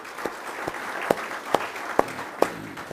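A small audience gives a brief round of applause for Todd Rapp, heard as a sparse, steady series of a few distinct hand claps in a room.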